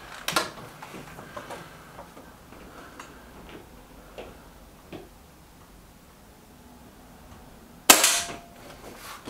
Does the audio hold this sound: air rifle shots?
yes